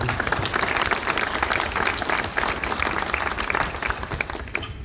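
A large crowd at a mayor's New Year ceremony in Rungis applauds loudly and continuously, dense overlapping claps forming a steady roar that tapers slightly near the end.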